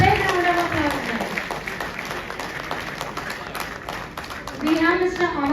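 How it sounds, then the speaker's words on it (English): Applause from an audience at a college event at JECRC, steady clapping with crowd noise and a voice speaking over the start and end. "Give them a big round of applause, guys."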